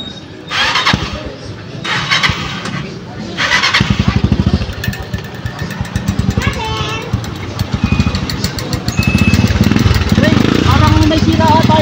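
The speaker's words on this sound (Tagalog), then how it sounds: "May sira ata yung motor mo. Oo, lalagitik eh." A motorcycle engine with a ticking fault starts and idles with a rapid, uneven ticking rhythm, close by, while people talk over it.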